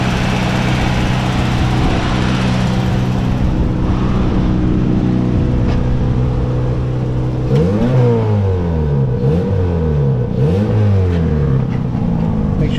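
Car engine in an auto repair shop during intake cleaning: a steady idle hum gives way to several rhythmic revs that rise and fall, loud and close, with no speech.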